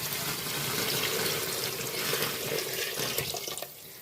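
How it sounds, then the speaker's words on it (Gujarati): Water pours steadily and fairly loudly into a cooking pot for khichdi, a continuous rushing splash that thins out toward the end. "હવે પાણી નાખી દઈએ।"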